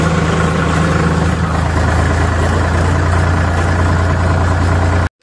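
A large farm tractor engine idles loudly and evenly with a deep, constant rumble, then cuts off abruptly at the very end.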